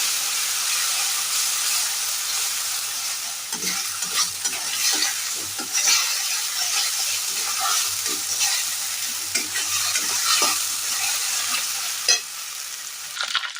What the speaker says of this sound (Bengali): এবার এটা আমাকে খুব ভালো করে কষিয়ে ফেলতে হবে।